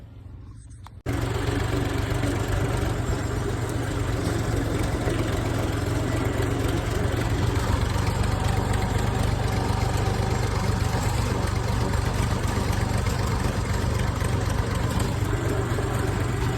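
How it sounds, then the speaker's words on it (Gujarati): A farm tractor engine starts after a second of quiet and then runs steadily at a constant idle, a loud, close, low throbbing drone with no talk over it. "અત્યારે હું ટ્રેક્ટર લઈને નીકળું છું"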